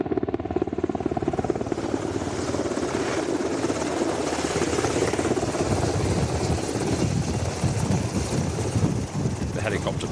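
A military helicopter picking up troops during a combat evacuation in Colombia thumps loudly and continuously with rotor chop and engine roar, up close, while a voice talks underneath.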